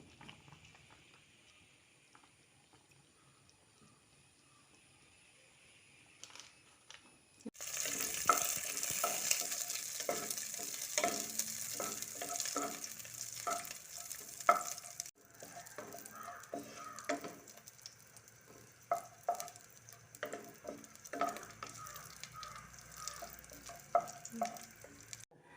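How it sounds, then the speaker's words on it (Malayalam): Cashews and raisins frying in ghee for payasam, starting after about seven quiet seconds with a steady, close sizzle and crackle broken by frequent stirring scrapes and clinks, with no talking. "ഇനി നമുക്കിത് നെയ്യിൽ അണ്ടിപ്പരിപ്പ് മുന്തിരിയും വറുത്തിട്ട് ഇടാം"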